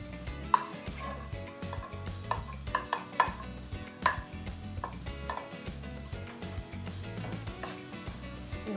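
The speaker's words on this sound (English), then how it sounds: "So let's start putting our onions there." Onions frying in a pan for a shrimp encocado, a soft sizzle beneath repeated clinks and scrapes of a utensil against the pan.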